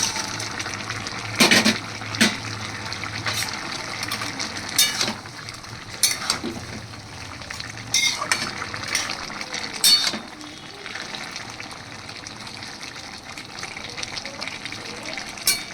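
Fried fritters drop into a simmering pumpkin-stem curry, bringing a series of splashy, gushing bursts over a bubbling, liquid background, with quieter stirring between the louder plops.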